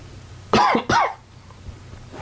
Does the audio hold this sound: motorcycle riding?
no